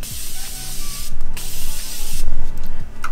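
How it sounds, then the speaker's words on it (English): Morphe Prep and Set makeup setting spray misted onto a face in several loud, close hissing bursts with short pauses, fine-nozzle spray pumped repeatedly. "Let me spray."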